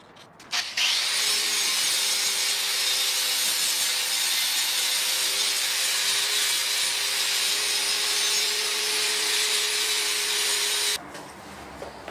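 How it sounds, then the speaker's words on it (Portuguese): Power tool grinding the edge of a 3D ceramic floor tile, a loud continuous abrasive whine that starts abruptly, holds steady for about ten seconds, then cuts off. "Eu preciso retificar esse lado"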